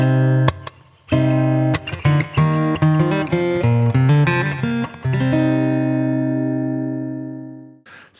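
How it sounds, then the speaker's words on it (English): Strummed acoustic guitar intro of a song, a catchy three-chord pattern with steady rhythmic strokes that builds, then lets a final chord ring out and fade, played alone up close. "the acoustic guitar intro part sounds like this."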